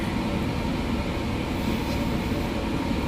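Steady rumbling rattle of a GO commuter train in motion between Kitchener and Brampton, Ontario, heard from inside the carriage, with constant clatter and hum and no talking.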